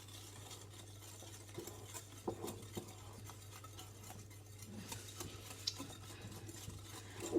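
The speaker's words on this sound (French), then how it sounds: "vous allez bien mélanger jusque le mélange blanchisse un petit peu" A batter is mixed in a bowl until it pales, quiet repeated scraping and clinking strokes of a utensil against the bowl over a faint steady background hum.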